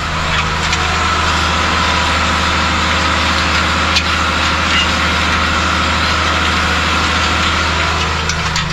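A tractor engine runs on farmland during field work, a loud steady low rumble with no gaps or talking.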